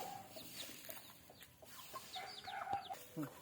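Chickens cluck and squawk close by on a farm beside a turkey house, with irregular short calls that rise in bursts over a steady outdoor background.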